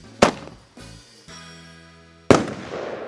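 A giant firework cannon fires with sharp loud bangs: one sharp report, a few seconds of ringing fizzing tail, then a second heavy boom with crackling debris, outdoors.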